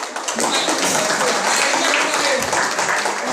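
An audience at a multi-level marketing seminar breaks into applause, a dense burst of many hands clapping that carries steadily at full volume for a few seconds.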